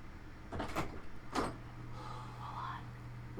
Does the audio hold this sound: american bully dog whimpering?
no